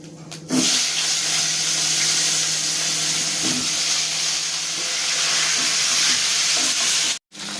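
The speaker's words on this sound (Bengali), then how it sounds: "এবার আলুগুলো আমি এই তেলের মধ্যে দিয়ে ভালো করে ভেজে নেব" Potatoes fry in hot oil tempered with cumin seeds. A loud, dense sizzle starts suddenly and holds steady for several seconds, with faint stirring bumps, then briefly cuts out near the end.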